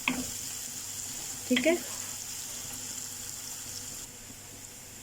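Onions sautéing in a pan until golden for a cabbage kofta curry, a faint steady sizzle with a brief stir or clatter partway through, a voice speaking briefly near the start.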